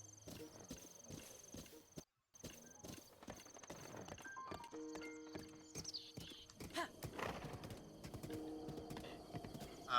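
Horse hooves clip-clop in a Zelda video game, quick regular footfalls at first, then rougher shuffling steps mixed with game chimes and effects and a short whinny-like sound.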